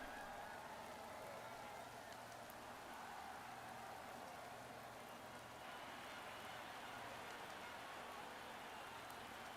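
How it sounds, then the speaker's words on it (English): Rain falls in the MotoGP 23 racing game, a steady, faint hiss of downpour with a low engine drone running underneath, continuous and without any speech. "It is more difficult in the rain."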